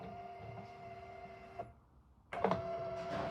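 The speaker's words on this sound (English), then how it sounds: "Press the Select button to initiate the self-test. The sign will move to both extents and finish in the stop position." INSTABOOM Go sign motor running through its self-test, a faint steady whirring hum that cuts out briefly, then a click and the motor whirring again at a slightly higher level.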